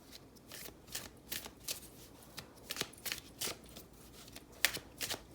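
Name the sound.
shuffling oracle cards, Aphrodite Oracle deck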